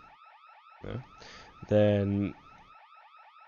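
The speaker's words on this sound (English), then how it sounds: "So the alarm's going off and everything, great." An alarm sounds in a Roblox bank robbery game, a repeating electronic warble that runs steadily at moderate volume throughout, with a voice speaking briefly over the middle.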